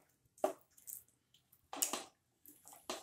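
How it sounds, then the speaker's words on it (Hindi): Water poured from a glass into a pan of dum aloo gravy, giving a few soft, separate sloshing and squishing splashes, close and quiet, with short pauses between. "तो यहाँ पे हम 1 गिलास पानी डाल सकते हैं।"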